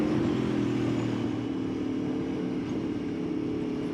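An Aprilia Tuono motorcycle carves canyon roads at a steady pace, its engine a loud, even, low droning hum with close wind rush and no talk.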